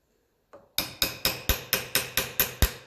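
A screwdriver on a Ferguson 20 Lucas starter motor is struck by a hammer in eight evenly spaced metallic taps, each sharp and ringing briefly, close and loud, with no talk.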